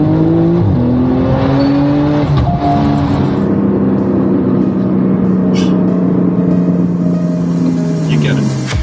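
Porsche 991 Turbo fitted with an iPE exhaust system revs hard and loud, its engine note rising and falling in sustained surges close by, with a low rumble underneath and no talk.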